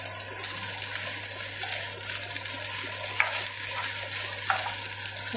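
Leftover cooked rice is stirred and mixed in a pan with a steady scraping, sizzling texture and a few sharp spoon knocks, close and continuous with no talking.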